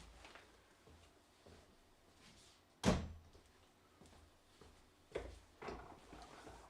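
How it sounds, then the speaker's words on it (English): A door pushed shut indoors gives one sharp thud, followed by fainter knocks and handling noises a couple of seconds later, all against a quiet room with no talking. "I will close the door here"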